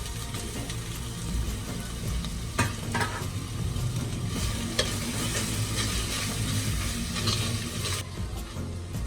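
Chopped tomatoes hitting hot oil with pepper, green chillies and fennel for a crab gravy, a continuous close sizzle with a spoon stirring and scraping through it, no voices.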